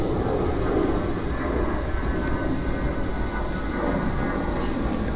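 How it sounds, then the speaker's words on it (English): Airplanes fly overhead, a continuous loud, broad rumble that holds steady throughout with no break. "Stupid planes."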